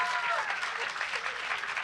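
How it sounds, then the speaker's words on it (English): Audience applause for an author at a book talk and conversation event, a steady wash of clapping filling the whole short stretch at even loudness, with no voices over it. "Another round of applause,"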